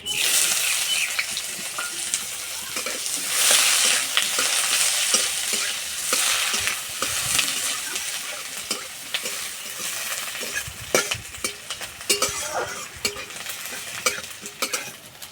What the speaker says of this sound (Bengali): পেঁয়াজ হালকা লাল করে ভেজে নিয়েছে।